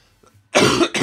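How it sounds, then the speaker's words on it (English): A person's harsh, heavy cough, close and loud, in two bursts, a long one then a shorter one, after a moment of quiet. "I'm sorry guys, my cough is just terrible."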